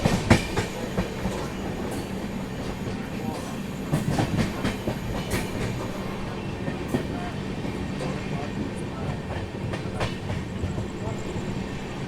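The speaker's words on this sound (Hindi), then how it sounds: "ये एकदम से स्लो हुई है भाई ट्रेन भाई, क्योंकि आगे रेड सिग्नल है।" A Garib Rath Express train decelerates toward a red signal, carriages rumbling with rhythmic clickety-clack of wheels over rail joints, heard from inside with someone talking over it.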